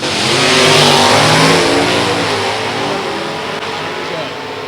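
A 1966 Chevrolet Nova SS with a 327 V8, running as an F-Stock clutch car at a drag race, roars hard off the line, the loud engine climbing in pitch through a gear change before fading slightly.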